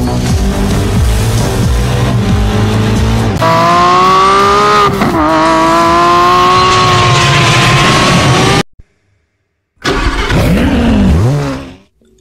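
A 2019 Lamborghini Huracan Evo engine revving hard and loud close by, its pitch climbing and falling through sweeps, then cutting out to near silence before a brief roar fades away.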